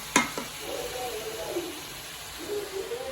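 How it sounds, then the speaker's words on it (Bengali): Meat frying in a spice paste, a soft, steady sizzle heard close by, with a sharp knock near the start and faint voices in the background. "মাংসটাকে কষে নিয়েছে ভালো করে এই মশলাটা তারপর মাংসটাকে ভেজে নিচ্ছে এখন"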